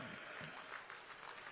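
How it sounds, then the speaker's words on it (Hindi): Audience clapping at a Haryana ceremony honouring Asian Games 2022 medal winners, here for a young girl athlete: a steady, dense wash of applause through the whole short moment with a faint voice underneath. "इनके लिए विशेष तालियां बजाएं आप"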